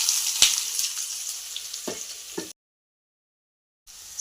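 Mustard seeds frying in oil in a kadai hiss and crackle with a few sharp pops, then cut to silence before the sizzling resumes briefly.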